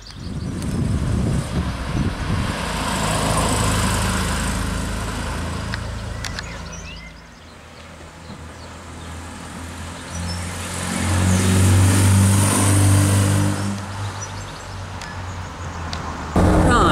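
A 1970 MGB GT classic car engine drones steadily while driving on a road, a close, continuous hum that swells slightly mid-way with road and wind noise, no voices.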